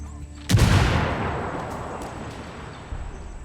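A grenade explodes in Ghost Recon Wildlands with a loud, close boom that rumbles and fades over a couple of seconds. Faint gunfire and distant shots follow.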